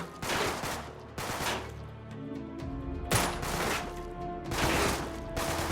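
Sustained gunfire in the third-person shooter Uncharted 3: Drake's Deception on brutal difficulty, with repeated loud bursts of automatic rifle fire a few seconds apart over a steady game background.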